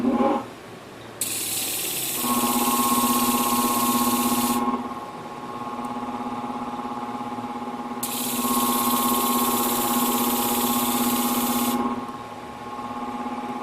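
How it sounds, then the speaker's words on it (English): Ceramic shears are ground on a Katoku sharpening system with flowing water, giving a steady high whirring grind in two long passes separated by a quieter motor hum, continuous and close. "Ceramic likes to be ground with water."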